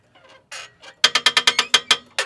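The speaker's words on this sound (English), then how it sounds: "this jack sounds like shit" Rhythmic metallic clanking and ratcheting of a worn hydraulic floor jack being pumped, about ten quick strokes in a row, close and loud, preceded by a few softer scrapes.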